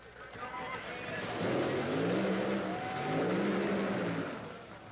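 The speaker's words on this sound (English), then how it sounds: "The engines are running." Top Fuel dragster engines at the 1982 NHRA Cajun Nationals drag race rumble and rise in two swelling revs, loud but slightly distant, with an announcer talking over them.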